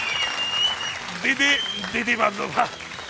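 Audience clapping at a comedy show, a steady spread of applause running underneath a host's voice talking over it.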